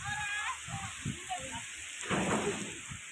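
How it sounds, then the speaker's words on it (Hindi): Rain falls steadily on an outdoor party while guests eat, a continuous broad hiss with faint murmuring voices underneath. "खाना खा रहे सा ते जेड़ा ना बारिश होने लग पई है।"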